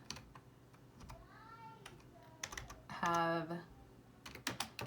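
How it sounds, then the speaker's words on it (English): Clacky typing on a computer keyboard with one hand, irregular bursts of close key taps, while a person talks over it. "Sorry, I'm typing with one hand right now."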